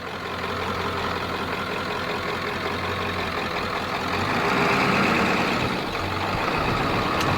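A 1997 Ford F-350 dually with a 7.3 diesel runs nearby, a steady rumbling idle that swells briefly in loudness midway before settling back.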